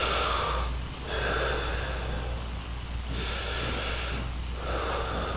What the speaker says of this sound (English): So just hang here and just breathe into the floor.